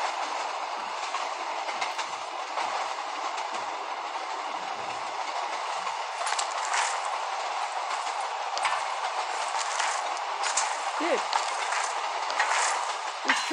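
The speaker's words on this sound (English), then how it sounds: "Maybe I should just keep riding the train so I can always see where they're coming." A train ride in the video game Black Ops 3: continuous rolling rail rumble with clickety-clack wheel rhythm and occasional squeals, steady and moderately loud throughout, without any talk.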